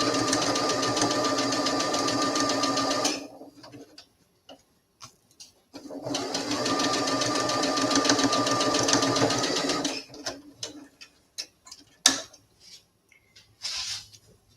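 Sewing machine stitching fabric for a doll, two long steady runs of rapid mechanical whirring separated by pauses filled with small clicks and handling noises.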